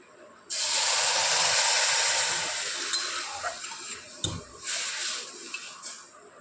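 Milk poured into a hot pan of stirred vermicelli for payesh, an abrupt loud sizzling hiss that slowly fades into softer bubbling with a few small knocks, no talk.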